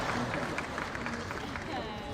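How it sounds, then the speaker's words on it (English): An audience at a university speaking event in an auditorium breaks into soft, scattered clapping that runs throughout, heard at a distance under a voice talking over it. "I like the clapping."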